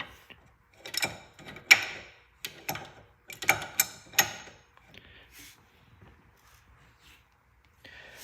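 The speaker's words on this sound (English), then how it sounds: "I'm not going to waste much of your time watching me wrenching this" A wrench tightens an AN fitting, giving a run of sharp metallic ratcheting clicks and clanks in bursts, close and fairly quiet, trailing off into near silence.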